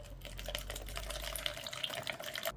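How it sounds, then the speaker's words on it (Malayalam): Packaged coconut water poured out in a steady, continuous liquid stream, close and fairly quiet, running alone without speech for a couple of seconds. "അപ്പോൾ അതൊന്ന് ഒഴിച്ചിട്ട് കുടിച്ച് നോക്കാം."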